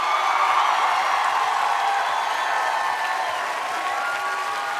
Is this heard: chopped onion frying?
no